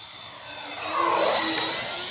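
An Xfly J-65 twin 70mm electric ducted-fan RC business jet makes a low pass at light throttle with full landing flaps, its whine rising and swelling loud as it sweeps close by.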